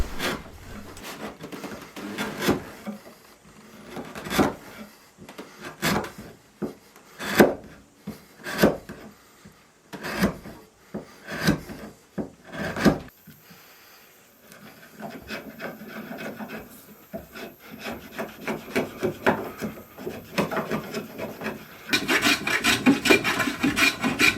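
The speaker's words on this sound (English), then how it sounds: "I clamp on a square block on top and then run the chisel down onto the scribed line." A chisel is worked along a scribed line in wood for a gate, making a series of close, dry scraping and rubbing strokes in irregular rhythm, growing denser and more continuous toward the end.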